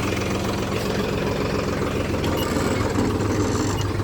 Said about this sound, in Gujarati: મુકાબે કરી ગયો ચાલુ ટ્રેક્ટર